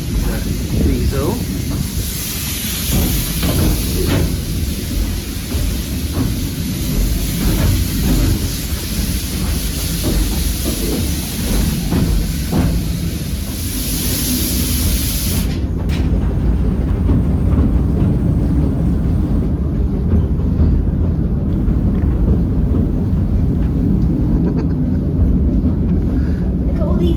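A diesel locomotive hauls a train along the Bala Lake Railway, heard from a seat just behind the loco: a loud, steady rumble and clatter of wheels throughout, mixed with heavy wind buffeting the microphone.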